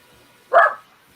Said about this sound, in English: Dog going for a walk up the road.